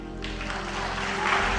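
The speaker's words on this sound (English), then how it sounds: "Can we please hold the applause?" Audience applause at a presidential debate, a steady wash of clapping that swells slightly toward the end, with no voices standing out.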